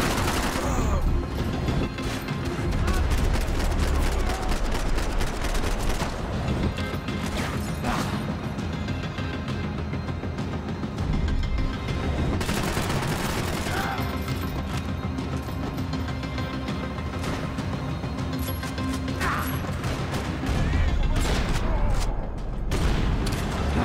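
Sustained gunfire from a Max Payne 3 shootout on Hard difficulty: dense, loud bursts of shots and crashing impacts fill the whole stretch with hardly a break, with no one talking over it.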